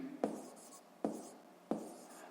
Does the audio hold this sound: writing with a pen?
yes